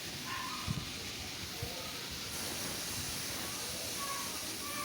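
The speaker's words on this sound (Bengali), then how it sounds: "এখন আমি নাড়িয়ে ভালোভাবে ভেজে নিচ্ছি" Kohlrabi frying with a fish head in a pan, a steady loud sizzle and hiss throughout, with a few soft knocks of stirring.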